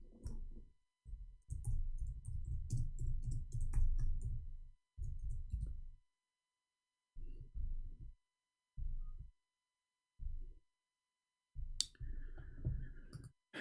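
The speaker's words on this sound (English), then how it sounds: "we are typing in English" Typing on a computer keyboard, with close bursts of rapid key clicks and thuds arriving in separate clusters between short silent pauses.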